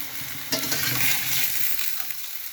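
A utensil scrapes and stirs through a sizzling bottle gourd and snakehead fish curry in a wok, a steady frying hiss with a louder stir near the start that fades slightly.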